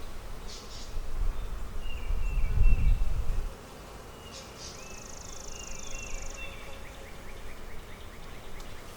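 Honey bees buzzing in an open hive, a steady low drone with a louder rumbling burst early on, while birds call faintly in the background.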